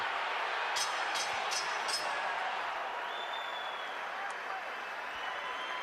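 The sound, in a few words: boxing crowd applauding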